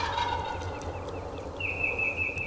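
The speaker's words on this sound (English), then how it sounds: "we heard a gobble" Wild turkey tom gobbling at the edge of a burned mountain area during a hunt, one distant rattling gobble followed by a thin high call over quiet outdoor ambience.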